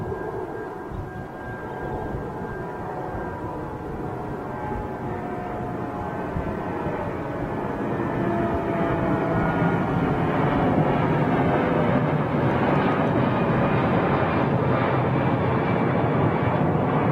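A big jet airliner roars steadily at a distance, a broad continuous rumble that swells louder over the second half with no talk.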